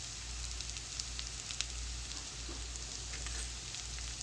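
Onions and green chillies frying in a pan, a faint steady sizzle with tiny crackles over a low hum, continuous and even throughout.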